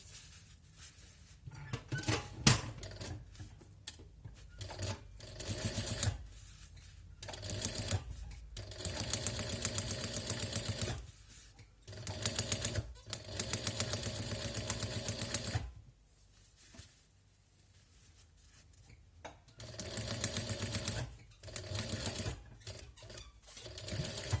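A sewing machine stitches the hem of a jacket in repeated close bursts of rapid mechanical clatter lasting a few seconds each, separated by quiet pauses.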